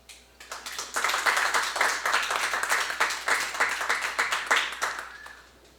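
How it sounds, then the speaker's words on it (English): Comedy club audience applauding, a dense burst of clapping that swells in quickly, holds steady for several seconds, then fades out near the end. "I'll give yourself a round of applause."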